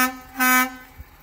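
A steady air horn tone sounds from a 2019 Ford F-750 diesel truck with a 330 hp engine, swelling into one loud blast midway through the short burst.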